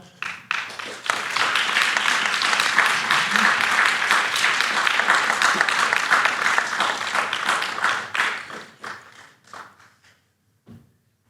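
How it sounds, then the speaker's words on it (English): Audience applause for mayoral candidate Joe Rasco at a Key Biscayne debate, a dense burst of many hands clapping that holds steady for about eight seconds, then thins out and fades to a few last claps. "feel free to applaud for your candidate as I bring them up"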